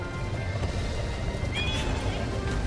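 A horse in Zelda Breath of the Wild neighs, one clear whinny over galloping clip-clop hooves and game ambience, with a voice faintly underneath.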